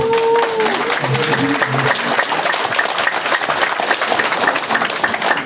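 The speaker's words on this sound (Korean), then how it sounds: "엄마부대 우리 조옥순 대표님 아시죠? 박수 한번 쳐주세요" Crowd applause at a Korean political supporters' rally, dense steady clapping that continues throughout. A speaking voice and tones are heard briefly at the start.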